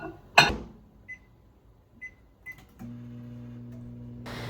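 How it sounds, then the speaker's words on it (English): A kitchen microwave oven: a sharp clack, a few short keypad beeps, then a steady electric hum as it starts heating, ending in a brief louder burst of noise. It is close and quiet overall, with no speech. "I'm gonna pop this in the microwave"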